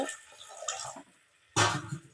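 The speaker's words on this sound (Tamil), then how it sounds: "ஒரு 2 மினிட்ஸ் வதக்கினதுக்கப்புறம் கொஞ்சமாக தண்ணி ஊற்றி, கொஞ்சமாக ஊற்றுங்க" Water splashes into a pan of frying dried anchovies (nethili karuvadu), a short bright pour that bursts in loudly after a brief pause, following softer sizzling and stirring.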